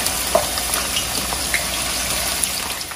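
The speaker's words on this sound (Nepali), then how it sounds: "अदुवा खार्छु, अदुवा पनि रातो रातो भएर झिक्नुपर्छ" Ginger fries in hot oil for a Nepali chicken pickle, giving a steady, loud, close sizzle with faint crackles throughout and no voices.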